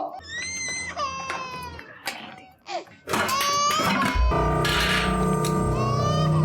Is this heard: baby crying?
yes